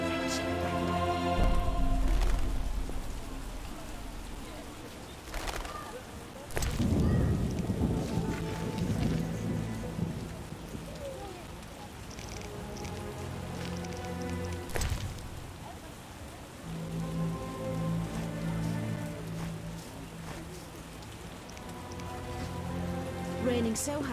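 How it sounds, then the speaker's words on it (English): Heavy rain pours in The Witcher: Enhanced Edition, a steady hiss of drops on surfaces with rolling thunder swelling in and out and some wind, loud and continuous throughout. "Raining so hard, I can't see anything."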